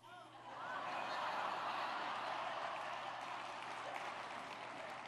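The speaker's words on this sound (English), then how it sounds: "Oh, you're clapping for that one." An audience at a keynote talk during a KOA convention in Phoenix breaks into steady, fairly distant clapping that swells after a quiet start and holds evenly, mixed with a few scattered chuckles.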